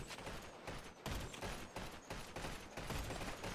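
Rapid gunfire in the video game GTA 5, dense bursts of shots rattling in quick succession for several seconds, quiet and continuous with short gaps between volleys.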